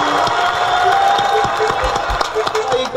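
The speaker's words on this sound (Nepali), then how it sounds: "ताली त्यति चर्को हैन है" Rhythmic hand claps ring out from a crowd at a devotional gathering at the Navadurga temple in Butwal, Nepal, sharp and close over sustained singing and musical tones.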